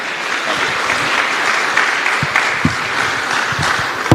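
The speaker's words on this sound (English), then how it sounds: "Please, warm round of applause for Pedro and for Michael." Audience applause at a tourism ministry themed session, a dense, steady wash of many hands clapping loudly for the whole stretch.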